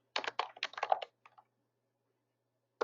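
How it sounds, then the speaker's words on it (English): Quick bursts of typing on a computer keyboard: a rapid cluster of close, crisp key clicks, a couple of softer taps, a pause in near silence, then another keystroke at the end. "or you can type in your own words"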